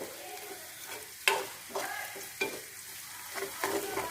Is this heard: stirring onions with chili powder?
yes